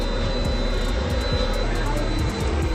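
A private jet engine runs with a loud, constant roar and a high whine beside it, with faint voices mixed underneath the steady engine noise.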